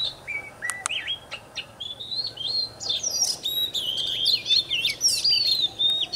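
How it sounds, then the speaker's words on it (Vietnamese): Recorded chè songbird call played outdoors through a bird-trapping lure speaker: loud, clear, high warbling phrases and chirps repeating in quick bursts over a faint background hum. "Đấy em test cho anh em cái tiếng chè nhá anh em nhé."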